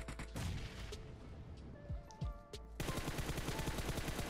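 Gunfire in the PUBG Mobile game: rapid automatic bursts and single shots ring out, then a dense, continuous rattle of fire fills the final seconds.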